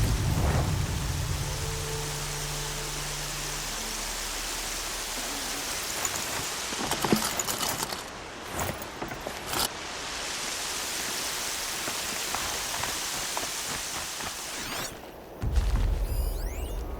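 Steady heavy rain hisses in Horizon Zero Dawn, broad and continuous, with low rumbles of thunder swelling in the middle and a brief dip near the end before the downpour resumes.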